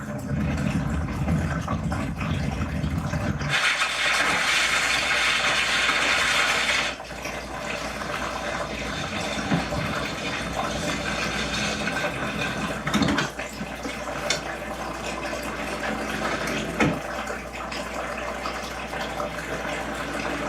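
A small mountain creek runs beside a campsite with a fire ring, giving a steady broadband rush of flowing water. A louder, brighter burst comes in the first seconds before the flow settles back to a constant murmur.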